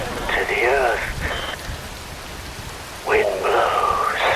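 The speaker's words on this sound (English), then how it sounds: "Wind blows, rain falls." Rain falls in the video game Metal Gear Rising: Revengeance, a steady close hiss running the whole time beneath a deep voice that speaks in two stretches.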